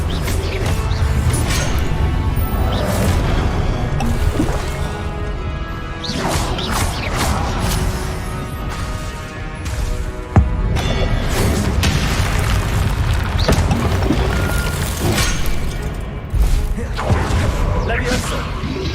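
The Expelliarmus spell is cast in the video game Hogwarts Legacy: repeated booming, crashing magical blasts and impacts in quick succession, loud and close, with voices heard between them.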